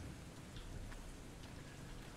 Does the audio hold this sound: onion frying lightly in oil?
no